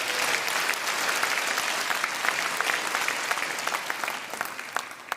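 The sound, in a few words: applause for local residents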